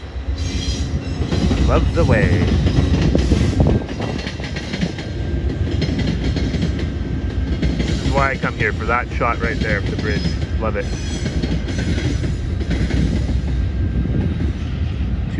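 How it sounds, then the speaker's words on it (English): VIA passenger train crossing a bridge, a loud continuous rumble with clickety-clack and wheel squeals throughout, while someone talks over it. "here I am editing the video and here comes a train finally."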